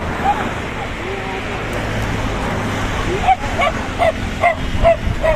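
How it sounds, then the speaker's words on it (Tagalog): Guard dogs bark in a quick series of sharp, repeated yaps that grow more frequent, over a steady roar like surf, with voices faint in the background. "Ito ba yung mga bantay mong aso?"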